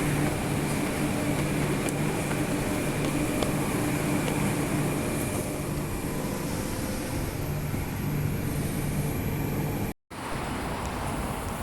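A Perth passenger train rumbles steadily as it moves, a continuous low mechanical drone with faint high whine, cutting out briefly near the end.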